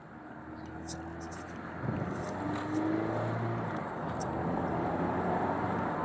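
2016 Mazda MX-5 Miata cruising at a steady 60 to 70 km/h, a quiet, even engine and road hum heard from inside the cabin, with a slight swell partway through.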